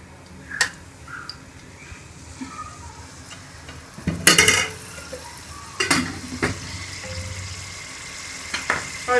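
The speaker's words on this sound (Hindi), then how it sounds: "ये कढ़ाई में हम थोड़ा सा घी डालेंगे।" Ghee heating in a kadai while aloo samosas are cooked, heard as a soft background sizzle with scattered clinks of a spoon against the pan and a couple of louder scraping bursts.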